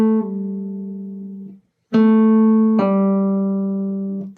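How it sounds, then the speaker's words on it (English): An electric guitar demonstrates pull-offs: a plucked note drops to a lower pitch, fades, then after a brief gap two more plucked notes ring with a quick pull-off change, clean and close with no talking. "If you pull off literally, if you pull up, you get a cool sound, but it's not that strong."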